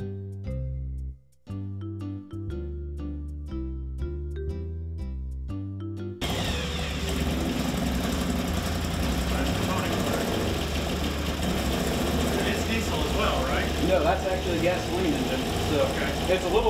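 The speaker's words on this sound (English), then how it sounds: "Four cylinder gasoline engine." A few seconds of plucked musical notes give way to the steady, rumbling idle of a four-cylinder gasoline stump grinder engine, fairly loud and close, with a busy mechanical texture.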